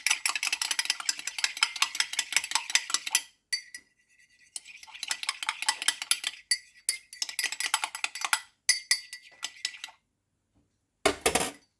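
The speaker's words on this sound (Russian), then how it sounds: "Я вот его специально просто размешаю ложкой." A spoon stirring foamy cleaning liquid in a dish, with quick rhythmic clinking and scraping in several bursts separated by short pauses, then a final sharp clink, close and alone.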